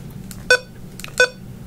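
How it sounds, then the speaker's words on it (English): Alarm tone from a Midland HH54 weather radio: two short, loud electronic beeps about two-thirds of a second apart, sharp and pure over a low background hum. "When it's set to tone, it's gonna keep constantly sounding the alarm tone."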